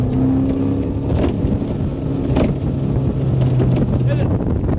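A Cormate T27 Supermarine motorboat with a 350 hp V8 runs at full throttle, its steady loud engine drone mixed with rushing water and gusting wind over the microphone.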